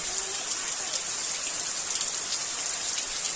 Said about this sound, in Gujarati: જો પેલા નેવાળિયા પડી જો પાછો જબ્બર પડવા માંડ્યો છે